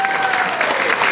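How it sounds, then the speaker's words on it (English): An audience at a benefit dinner claps together in a dense, steady burst of applause, loud and close, lasting about a second. "let's give them a lovely clap"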